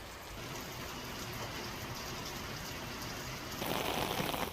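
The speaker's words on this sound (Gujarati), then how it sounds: "ગ્રામ્ય વિસ્તારમાં વરસાદ વરસ્યો" Steady rain hisses down over a rural area in Gujarat with a dense, even patter that grows a little heavier toward the end.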